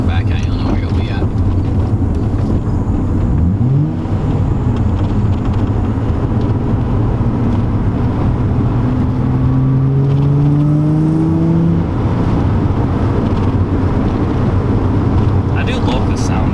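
A Nissan 350Z engine's deep exhaust note rumbles steadily nearby, its pitch rising and falling through gear changes, with a brief voice early on.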